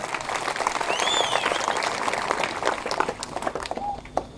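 Church congregation applauding at a revival service, a sustained spread of clapping with a faint crowd murmur and brief whistling tones, fading toward the end.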